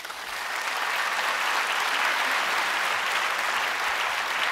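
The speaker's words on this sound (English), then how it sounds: "why does he get applause?" An audience at a Stanford University talk applauding a man recognized from the crowd, a dense, even roar of many hands clapping that swells in quickly and holds steady for several seconds.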